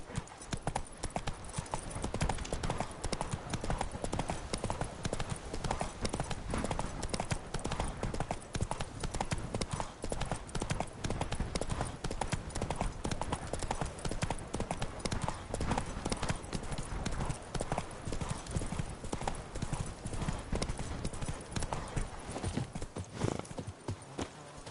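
Roach, Geralt's horse in a PS4 video game, gallops without a break, a steady rapid clip-clop of hooves running for about twenty-five seconds at a fairly low level.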